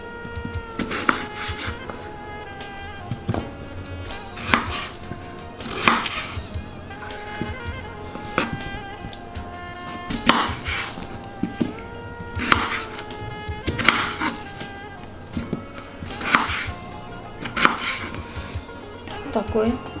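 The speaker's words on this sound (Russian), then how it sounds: "нарезать нашу картошку вот на такие куски" A knife chops potatoes into pieces on a board for Azerbaijani chicken buglama, with regular crisp cuts every second or so and quiet kitchen clatter between strokes.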